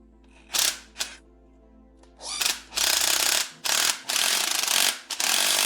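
A ratchet tightens a 19mm nut on the suspension bushings of an 80 Series Land Cruiser during an Old Man Emu 2-inch lift install. It gives several close, loud bursts of rapid clicking with short pauses between them and no talk.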